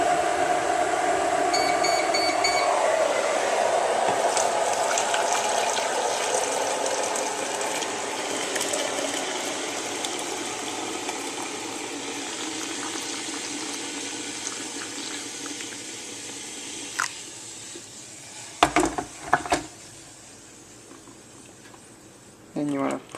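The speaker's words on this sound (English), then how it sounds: "You want to take the hot water, and you want to pour it into the container." Hot water pouring steadily into a container for chifir, Russian prison tea, a continuous splashing stream that slowly fades, followed by a few clinks and handling sounds.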